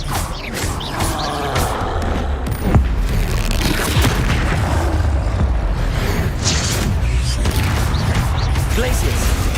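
Hogwarts Legacy spell combat: repeated booming impacts, swishes and crashes layered in a dense, loud battle mix, with a strong hit near the start and steady clashing throughout.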